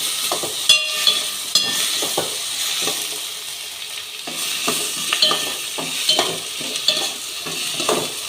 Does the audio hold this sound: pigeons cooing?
no